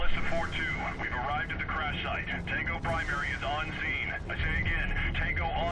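A helicopter in the video game Prototype 2 drones with a steady aircraft roar, mixed with game sounds, while a voice talks over it throughout.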